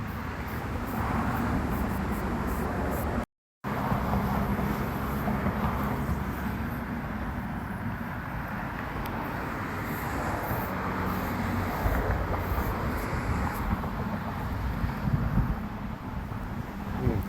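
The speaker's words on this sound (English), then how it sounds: "Here comes the wind to blow this paint all over me" Steady outdoor wind rushing against the microphone while oil-based stain is being painted on, a loud, continuous broadband roar that persists throughout with one brief dropout.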